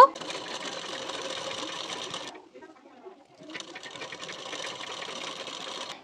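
A sewing machine stitches a 1.5-inch hook strip onto a boat-neck blouse, running steadily for about two seconds, pausing briefly, then whirring again at an even pace, fairly close and alone.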